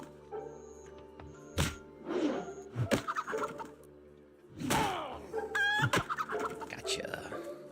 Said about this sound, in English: Old battle chicken.